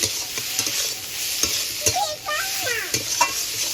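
Prawns with salt and turmeric frying in a pan, loud close sizzling with frequent stirring scrapes and some bubbling squeals from the hot oil.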